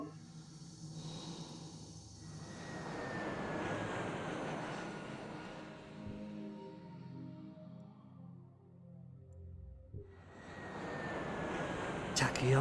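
Jet aircraft engine roaring in a video game, the Tachyon needle jet, a steady loud whine with a rising pitch that fades mid-clip before surging back near the end.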